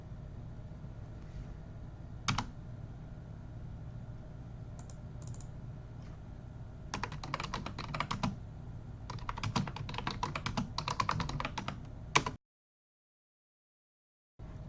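Typing on a computer keyboard, close and quiet: a single clack early on, then scattered keystrokes, and later dense bursts of rapid typing before an abrupt cutoff to silence.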